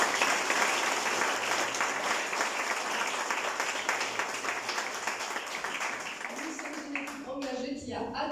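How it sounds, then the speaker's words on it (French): An audience at an association's annual general meeting applauds in a dense, continuous roar of clapping that fades slightly toward the end, where a speaking voice takes over. "Vous pouvez les applaudir."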